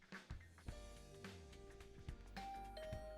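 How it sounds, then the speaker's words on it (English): A doorbell rings in the video game The Hundred Line: Last Defense Academy, giving a clear sustained tone over soft background music, quiet and alone with no talking. "I'd been relaxing in my room after breakfast when I heard the doorbell ring."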